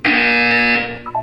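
A harsh, steady buzzer tone from the Portal 2 video game sounds loud for about a second, then tapers off as a quieter electronic tone follows.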